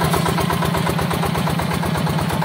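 A modified farm tractor fitted with a new Yanmar 160 engine runs steadily, its loud, continuous idle throbbing in a rapid even rhythm throughout, close by, with no talk.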